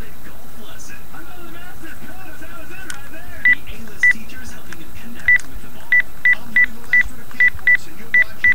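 A telephone keypad sounds a quick series of about ten short, evenly spaced dialing beeps, loud and close, with people talking in the background during a hockey card group break.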